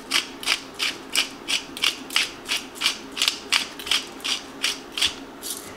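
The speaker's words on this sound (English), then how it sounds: "Salt and pepper. Good couple grinds." Pepper grinder cranking peppercorns over carnitas taco filling in a home kitchen, a close, steady series of about a dozen rhythmic gritty ratcheting grinds, loud and alone.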